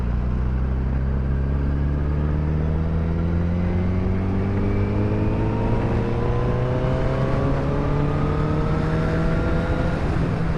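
A Honda CBR 1000RR inline-four motorcycle accelerates steadily through its revs, a loud, smooth rising engine whine held close and continuous with no talk.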